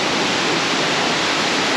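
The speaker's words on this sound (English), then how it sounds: "So that's the waterfall." Sumampan waterfall in Ubud, Bali, roaring as a steady, loud broadband rush of falling water close by, continuous with no voices over it.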